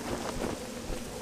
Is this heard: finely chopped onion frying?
no